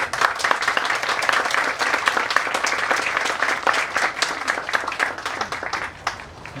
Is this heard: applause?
yes